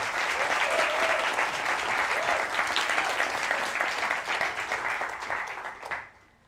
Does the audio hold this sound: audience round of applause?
yes